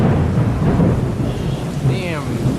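A close, heavy rumble of thunder rolls over steady rain falling outdoors, with no voices, the roar staying loud and continuous throughout.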